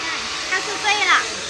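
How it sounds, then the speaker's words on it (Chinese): Steady, loud broadband mechanical roar from house construction nearby in a Hanoi residential lane, continuous throughout with a few brief swells, while voices speak faintly underneath. "这附近有盖房子的声音特别吵。"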